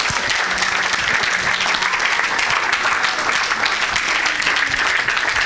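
A church congregation breaks into sustained, dense applause, a steady loud wash of clapping from many hands that fills the whole stretch without pause.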